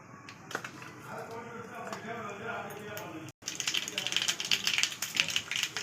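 Dense, sizzling crackle of mustard seeds in a little hot oil for tempering, rapid popping spitting continuously up close, louder after a brief break.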